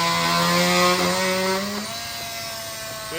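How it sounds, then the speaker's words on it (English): A saw cuts a polyurethane table in half during a Polaris RZR 170 engine swap. It whines loudly and steadily with a droning tone that drops in pitch as the cut slows, then eases to a quieter hum. "saw my polyurethane table in half on accident right now"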